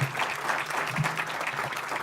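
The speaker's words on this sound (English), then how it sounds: "A round of applause for David." Audience at a commercial real estate award event claps steadily in a room, a dense patter of many hands sustained for a couple of seconds.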